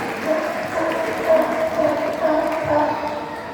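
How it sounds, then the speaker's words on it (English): A crowd applauds at the close of a sea lion show at Knowsley Safari Park, the clapping loud and steady for several seconds, with faint speech beneath it. "give them a big round of applause"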